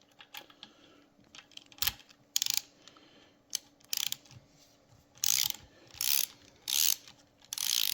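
Ratchet wrench clicking in short bursts while fastening parts during an oil pump installation on a Harley-Davidson Evolution engine rebuild, the clicks coming in several distinct runs with brief pauses and no talk.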